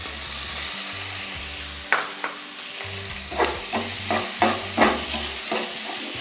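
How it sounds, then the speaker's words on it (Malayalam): Onion and carrot, salted, sauté in a pan with a steady sizzle, punctuated by a run of sharp scraping stir strokes over a low background hum. "ഇത് മൂടി വെച്ചിട്ടൊന്ന് സബോള നല്ലോണം ഒന്ന് വാട്ടിയെടുക്കാം."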